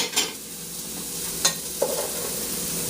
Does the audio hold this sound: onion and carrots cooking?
yes